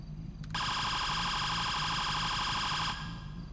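A police siren in the FiveM game, set to ELS siren mode 4 on a Met PD vehicle, sounds as a loud, steady, piercing electronic tone that holds for about two and a half seconds and then cuts off.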